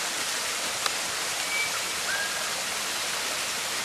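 Steady broadband rush of water tumbling down a waterfall into its pools, continuous and fairly close, with no voices over it.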